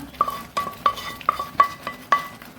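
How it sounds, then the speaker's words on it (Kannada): Fried cashews are added to a masala and stirred, with about six evenly spaced, ringing clinks of a spoon against the pot and a soft sizzle underneath. "ಫ್ರೈ ಮಾಡಿಟ್ಕೊಂಡಿದ್ದೇವೆ ಕಾಜುವನ್ನು ಇದಕ್ಕೆ ಹಾಕೊಳ್ಳೋಣ"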